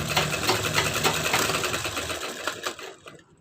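A sewing machine stitches the neckline of an embroidered belt blouse in one steady, close, rapid run of needle clatter that slows and stops near the end, with no talking.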